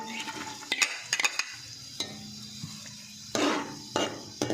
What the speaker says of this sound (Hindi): और इसे लाइट ब्राउन होने तक फ्राई कर लेंगे।